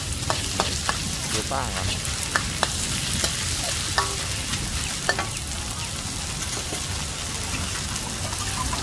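Pad thai with dried shrimp and egg being stir-fried in a pan at a Hua Hin street stall gives a steady, close sizzle broken by sharp spatula scrapes and clicks, with a brief spoken remark.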